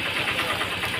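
A vehicle engine runs at a steady idle nearby, a constant even rumble with a slight pulsing texture and no voices.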